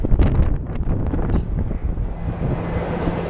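Strong wind buffets the microphone outdoors at Atlanta's Hartsfield airport during a wind advisory, loud low rumbling gusts that peak at the start and then settle into a steadier roar.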